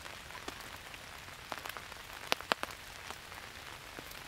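Heavy rain falls on a forest at night, drumming steadily on a small poncho shelter beside a campfire, with scattered sharper drops tapping over a quiet, continuous patter and no voices.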